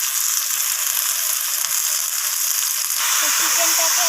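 Country chicken pieces frying with onion and tomato, a loud, dense, continuous sizzle close up with faint stirring, brightening slightly toward the end.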